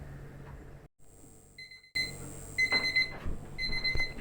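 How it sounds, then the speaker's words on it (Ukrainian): Kitchen timer set for three minutes while cooking pickled sweet peppers goes off with a steady series of high electronic beeps, a brief silence before it, with clattering and rustling underneath. "Таймер на 3 хвилини завели."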